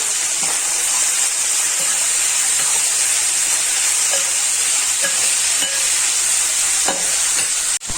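Onions salted in a pan fry with a loud, continuous hiss and sizzle while being stirred, with occasional scraping clicks and a sharp knock near the end.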